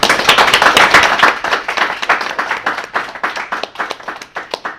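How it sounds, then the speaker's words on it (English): Applause from a lecture audience at the close of a lunchtime talk on data policy: a dense patter of hand claps from a modest crowd that thins into sparser, distinct claps toward the end. "If we could just share in a round of applause together today."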